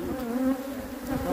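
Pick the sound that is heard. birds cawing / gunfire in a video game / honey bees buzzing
honey bees buzzing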